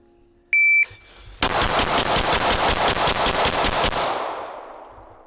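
Rapid pistol magazine dump on a shooting range, a short electronic start beep followed by a quick even burst of about a dozen loud close shots, then fading echo.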